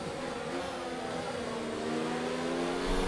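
Formula 1 car in F1 2019 at the Australian circuit, engine note rising steadily as it accelerates down the straight, a continuous loud whine with no talk over it.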